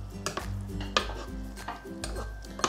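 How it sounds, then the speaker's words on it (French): Roman-style tripe with parmigiano is stirred in a pot, a spoon clanking and scraping against the metal in irregular knocks with a few sharper taps, fairly close and without voices. "Je vais brasser."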